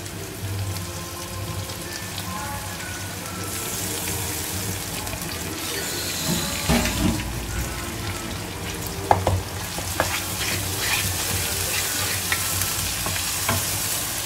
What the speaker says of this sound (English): Now we add the ginger garlic paste.